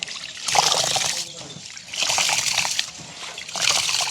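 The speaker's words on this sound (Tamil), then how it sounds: "இப்போ வந்து அரிசியை கழுவி எடுப்பாங்க." Freshly harvested new rice being washed by hand in water in a village kitchen, with three bursts of splashing and sloshing separated by brief pauses, close and fairly loud.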